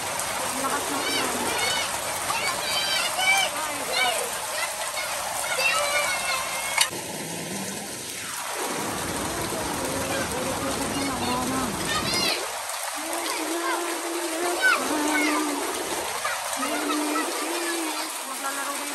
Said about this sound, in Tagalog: Oh, yung mga bata naglalaro sa ulan. Ang lakas ng ulan.